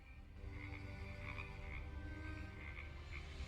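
Frogs croak in a swamp in the video game Preston Sterling, a chorus of repeated croaks at uneven intervals over a low, steady ambient hum, fairly faint and with no talk.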